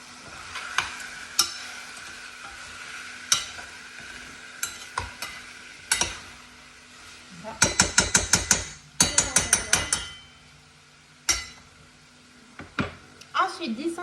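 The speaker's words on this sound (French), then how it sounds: "On mélange tout le temps." Turkey in mustard sauce is stirred in a pan, producing close sharp utensil clicks and a quick burst of rapid scraping strokes over a faint sizzle, with a voice talking over it.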